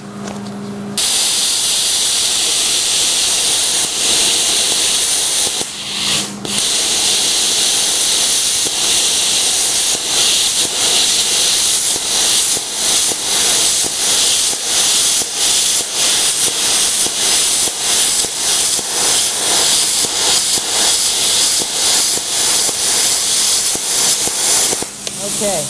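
Plasma cutter gouging through automotive spot welds, a loud steady hiss and roar running almost nonstop with a brief pause near the start, rough crackling texture throughout.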